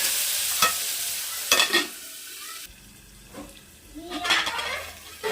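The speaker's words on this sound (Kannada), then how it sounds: "ಈಗ ಇದಕ್ಕೆ ಈರುಳ್ಳಿ ಹಾಗೂ ಹಸಿಮೆಣಸಿಕಾಯಿ ಸೇರಿಸ್ಕೊಳ್ತಾ ಇದ್ದೀನಿ. ಇದನ್ನು ಚೆನ್ನಾಗಿ ಫ್ರೈ ಮಾಡ್ಕೊಳ್ಳೋಣ." Onions and green chillies fry in hot oil while a spoon stirs them around the pan, a close sizzle broken by several loud scraping strokes and clanks against the metal, with no speech.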